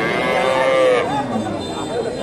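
A Friesian dairy cow moos at a rural cattle market, one long, loud, drawn-out call that fades into a softer, lower second bellow, with faint crowd noise behind.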